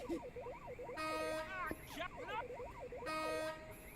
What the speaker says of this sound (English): Equip the air horn and use it on the van to annoy the dude inside the van.